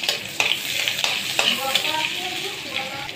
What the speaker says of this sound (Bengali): সরিষার তেলটা গরম হয়ে গেছে, এখন পেঁয়াজ দিয়ে দেবো।